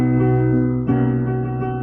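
Piano plays an accompaniment pattern in 6/8 time, sustained chords ringing close and fairly loud, with one new attack midway before the notes fade out.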